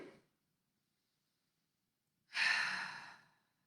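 One deep, audible breath drawn in and released, close and breathy, after a brief quiet pause.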